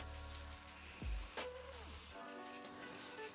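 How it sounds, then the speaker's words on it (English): Spray cleaner hissing onto the grimy valve area of a tubeless bicycle tire during a scrub-and-clean job, a short spray burst amid close handling and rubbing noises. "Give it a little bit of a scrub, maybe another little spray."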